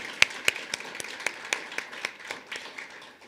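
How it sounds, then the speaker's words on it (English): Scattered, fairly faint handclaps ring out for Dr. Amber Lopez Lasater at a university State of the University address, a thin and uneven applause from a small number of clappers in a reverberant hall. "Let's give her a round of applause one last time"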